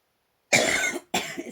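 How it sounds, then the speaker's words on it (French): Two close, sharp coughs from a woman with a winter cold, a longer one followed by a shorter one after a brief gap, in a quiet room. "j'essaye de pas tousser au micro"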